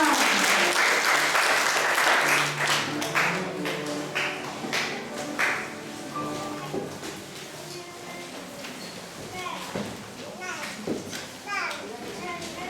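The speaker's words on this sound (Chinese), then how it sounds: "我们掌声来荣耀我们的神" A church congregation at a youth Sunday service breaks into loud, dense applause that gradually thins into scattered claps, with chatter and children's voices mixing in as it fades.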